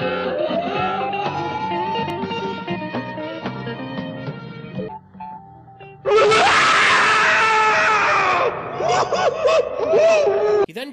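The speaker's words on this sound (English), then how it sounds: "we get the really unfunny delayed scream" A cartoon caveman from a B.C. Thanksgiving special lets out a loud, drawn-out scream after a delay, following a pause in the scene; it wails and warbles under a musical soundtrack.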